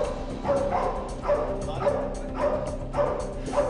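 An army service dog barks at a suspect it has tracked down and cornered, loud and close, in a steady run of repeated barks roughly every half second with faint voices in the background.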